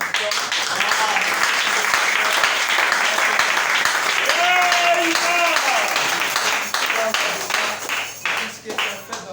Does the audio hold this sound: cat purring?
no